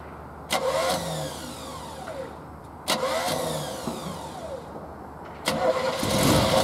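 A Checker limousine, unstarted for 28 years, cranks in three separate attempts with sharp starter bursts and whining turnover, catching and running rough toward the end, close and loud.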